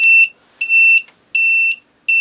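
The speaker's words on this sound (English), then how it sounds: "And the alarm goes off." A shrill electronic buzzer on a DIY laser security alarm kit beeps in loud, steady pulses after its beam is broken, four bursts with short silent gaps between them.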